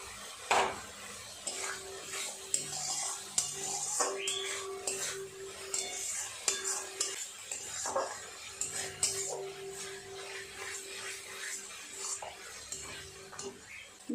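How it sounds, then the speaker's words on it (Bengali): Kashmiri chilli powder spice paste being stir-fried in a pan, with irregular scraping and clinking of a utensil against metal over a faint background sizzle, close and moderately loud. "দিয়ে দেবো কাশ্মীরি লঙ্কা গুঁড়ো দু তিন মিনিট সময় নিয়ে ভালোভাবে কষিয়ে নেব মশলাটা"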